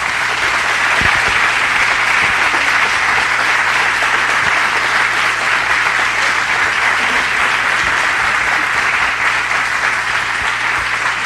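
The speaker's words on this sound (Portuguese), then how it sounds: "Uma salva de palmas para a Neide." Steady, dense clapping from a large audience at a Brazilian Amway event, honouring a teacher; loud, continuous and even throughout with no pauses.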